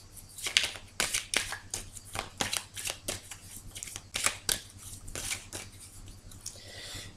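Tarot cards being shuffled and laid out during a reading: a steady run of crisp, papery riffles and snaps in quick irregular bursts, close and moderately loud, with no talking.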